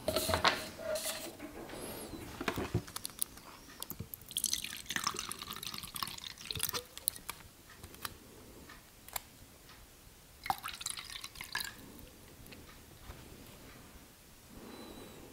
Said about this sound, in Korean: 여기 옆에다가 좀 이렇게 알코올을 좀 이렇게 흘려서